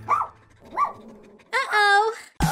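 A pet-sat dog inside a salon gives a couple of short yips followed by a longer whining bark, close and loud, with voices talking around it.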